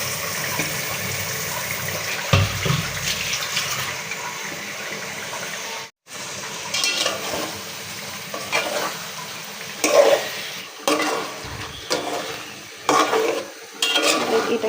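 Chicken meat tipped into cooked spice paste and stirred in a hot pan, loud wet sizzling with repeated scraping strokes, a sudden brief hush where the meat goes in, then bubbling and stirring resume.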